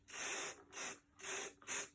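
An aerosol can of spray paint hisses onto a Halloween pumpkin in four short bursts with brief pauses between them, close and fairly loud.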